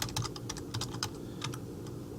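Someone types a user ID on a computer keyboard, producing a quick run of light, close plastic key taps with a few separate keystrokes over a low background hum.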